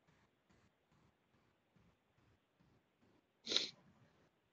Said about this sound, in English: Bless you to whoever sneezed.